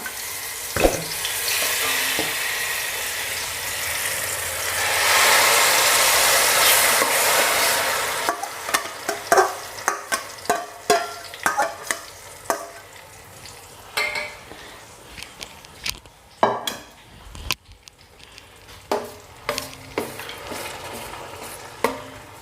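Cooked banana sizzles in ghee in a pan, a loud hiss at first, then giving way to repeated scraping and clacking strokes as it is stirred and roasted.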